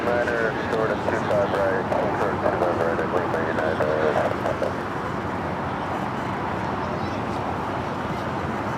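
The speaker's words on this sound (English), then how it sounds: "Air Premia, the Dreamliner, arriving on the north side." Air Premia Boeing Dreamliner airliner arriving at Los Angeles airport, a distant steady engine roar under near-constant talk, the rumble easing a little toward the end.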